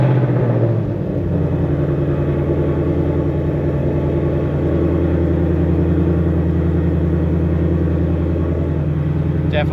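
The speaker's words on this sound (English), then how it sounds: "here's a cold start with the Resonator delete installed" Ford Mustang 5.0 V8 with a resonator delete idles loudly in a shop after a cold start, a steady deep rumble with strong low harmonics holding throughout.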